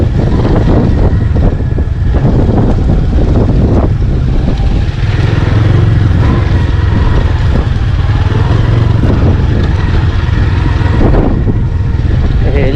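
Wind roars across the microphone during an offroad ride on a Yamaha R15 V3 and TVS Apache RTR 200, a loud continuous buffeting blended with motorcycle engine drone.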